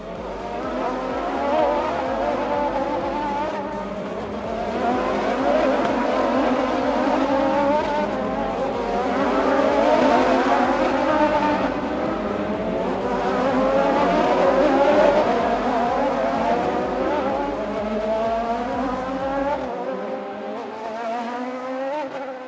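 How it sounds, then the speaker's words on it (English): A Formula 1 race car simulator game in an entertainment pavilion, with a continuous loud whine of racing engine and squealing tires throughout, rising and falling steadily before cutting off near the end. "a Formula 1 simulator that was excellent and perhaps the best game at Galaxy Pavilion"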